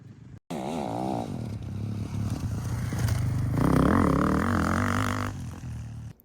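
Motocross motorcycle engine revving through a corner on the rear brake, a loud, close roar that rises in pitch and surges midway before easing off, no talking.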